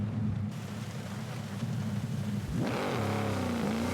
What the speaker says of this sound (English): Definitely got the Lamborghini sound.